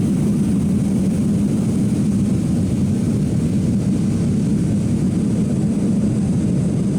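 A Harrier jet spools up for takeoff in the naval combat game Sea Power, making a steady, loud, broadband engine roar that holds even throughout with no talk.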